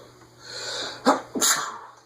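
A single sharp sneeze bursts out close by, a quick intake followed by a loud explosive release, with the quiet hum of a Casablanca Hermosa ceiling fan around it.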